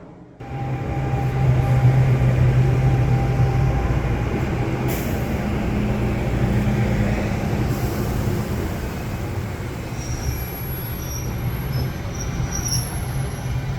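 An NJ Transit Bay Street Shuttle train pulls out of the station toward Hoboken, a steady loud rumble of wheels on rails with a drawn-out high squeal joined later by intermittent sharper wheel screeches, heard up close with no voices.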